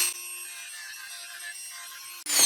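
A Dremel rotary tool grinds into a plastic mudguard to enlarge a hole, a steady high-pitched whine held for about two seconds, then cut off and restarted.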